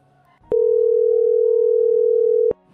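A phone line sounds a single steady, loud electronic tone for about two seconds as a woman places a call to answer a work-from-home advertisement, with no talking over it.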